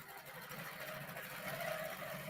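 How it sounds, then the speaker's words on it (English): A long arm quilting machine sews stitches quickly along a straight line while attaching binding, giving a steady fast mechanical whir at moderate level. "I'm trying to sew a straight line as fast as I can"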